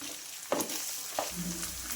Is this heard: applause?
no